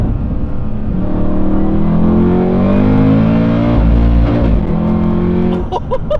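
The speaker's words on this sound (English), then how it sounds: "The exhaust sounds so good" An 800HP HSV GTSR wagon accelerates hard, its exhaust roaring loud and close as the revs climb in steady rising sweeps, with a brief dip near the end.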